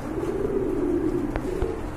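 Blue Rajgolla pigeons coo in a low, steady murmur that runs through the whole moment, close by, with a couple of short knocks near the end and no talk.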